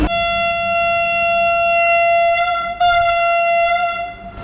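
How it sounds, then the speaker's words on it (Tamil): A Vande Bharat train at Madurai station sounds its horn loudly as it departs. A long, steady chord blast is briefly interrupted and then resumes before fading out. "பத்து ஐம்பத்தி நாலு ட்ரெயின் கிளம்புது மதுரை ஸ்டேஷன்லேருந்து நாகர்கோவில் கிளம்புது"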